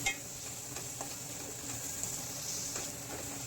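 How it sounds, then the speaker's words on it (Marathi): A spoon stirs spices with turmeric and goda masala in hot oil for amti, a soft continuous sizzle under light scraping strokes, fairly quiet and close. "पूर्ण मसाले तेलामध्ये मिक्स करायचे"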